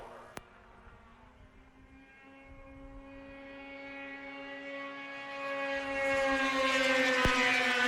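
A Polaris racing snowmobile in a Women's Formula 500 race whines past, its engine note climbing steadily in pitch and growing louder as it approaches, with a sharp click near the start and another near the end.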